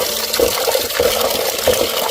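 Water runs and splashes steadily as cut pieces of shark fish are rinsed for a Telugu-style curry, a continuous close tap-like flow with small rhythmic sloshes, no voices.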